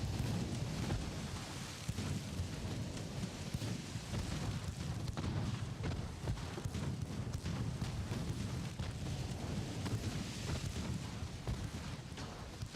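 Heavy rain and rumbling thunder at sea in the naval battle game Ultimate Admiral: Dreadnoughts, a dense, steady wash of rain with low booming rolls and scattered cracks throughout, no voices.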